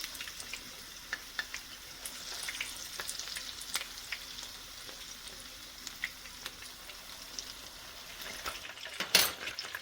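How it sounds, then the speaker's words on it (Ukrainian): Pieces of fish frying in a pan on the stove give a steady, close sizzle with scattered crackles and spits, and a louder burst near the end. "кладемо не густо і обсмажуємо з усіх бочків."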